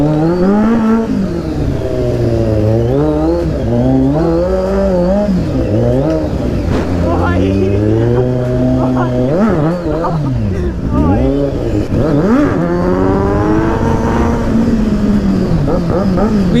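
A Kawasaki Z900 motorcycle engine revs hard during a short wheelie in heavy traffic, loud rising and falling engine pitch sweeps throughout.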